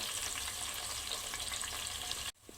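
Onions sizzle and fry steadily in a pan over medium gas alongside whole spices for masala rice, a dense continuous crackle that cuts off abruptly near the end, leaving a faint quieter hiss.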